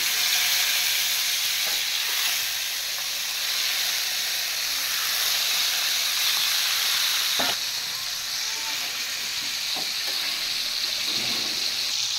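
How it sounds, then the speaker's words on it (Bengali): Fish frying in hot oil in a frying pan gives a loud, continuous hissing sizzle, close and unbroken, with a few faint clicks and pops scattered through it. "এখন মাছগুলো ভেজে নিই।"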